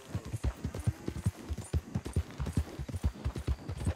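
Horse hooves clip-clopping at a steady walking rhythm in Red Dead Redemption 2, close and continuous throughout, with no talk over them.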